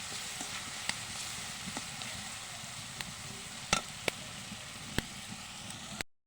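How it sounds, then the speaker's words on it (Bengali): Spices fry in a pan with a soft, even hiss throughout, dotted with a few sharp clicks and taps from stirring, and no one speaks. "এই মশলাটা কিন্তু ভালোই ভাজা হয়ে গেছে"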